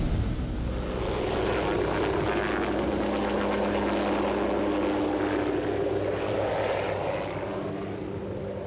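A steady, droning helicopter engine with a low rotor-like throb holds for the whole stretch, loud and continuous, fading slightly at the end.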